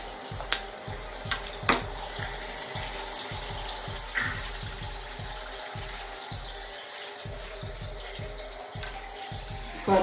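Water runs steadily from a tap while someone wets low-porosity 3C/4A natural hair, a soft continuous splash with faint irregular knocks and handling sounds underneath.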